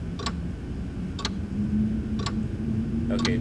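A clock ticks steadily about once per second in Alone in the Dark on PS5, four crisp ticks standing out over a low droning background hum with no speech.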